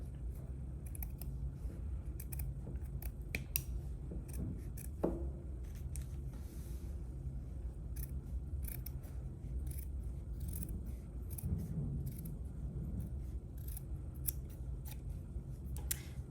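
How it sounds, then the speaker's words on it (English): Cloth scissors snip repeatedly through fabric or felt at close range, giving crisp, irregular clicks and crunches over a steady low background hum, with no talking. "So if you have cloth scissors, I would recommend using them to cut."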